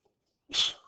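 A single sharp human sneeze bursts out close by, loud and brief, after a moment of near silence.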